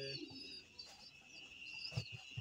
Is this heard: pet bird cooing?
yes